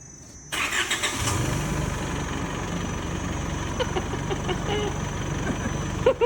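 A car engine with a newly installed eBox SuperCell battery cranks and catches after a short quiet moment, then settles into a steady idle rumble for several seconds.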